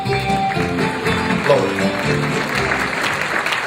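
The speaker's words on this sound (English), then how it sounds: "A round of applause." Audience applause at an awards ceremony for the Italian American Museum's Ambasciatori Award, a continuous wash of clapping under a humming tonal background, with voices faintly present.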